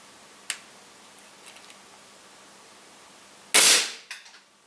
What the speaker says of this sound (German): Und dann habe ich geschossen